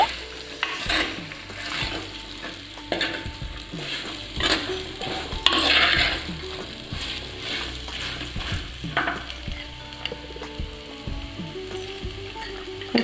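Bitter gourd fries in oil in a pan and is stirred repeatedly, with a steady close sizzle broken by frequent scraping strokes of a spoon against the pan.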